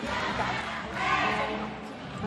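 Mexican fans shouting and cheering in the stands at a taekwondo semi-final, a dense crowd roar swelling briefly in the middle, moderately loud.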